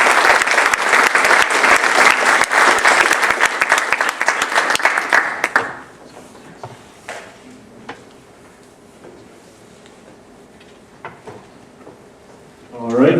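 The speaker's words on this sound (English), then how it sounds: "Big round of applause to them" A closing-ceremony audience claps in sustained, loud applause for about six seconds, then it cuts off to a quiet room with scattered small knocks and a brief burst at the end.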